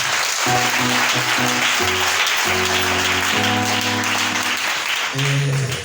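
A church congregation clapping and acclaiming loudly in a worship service, with a thick, continuous wash of applause mixed with sustained singing or music tones throughout.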